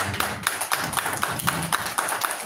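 Scattered, uneven hand claps from a small group of fans at a press conference ring out in quick succession, moderately loud, over a faint background murmur.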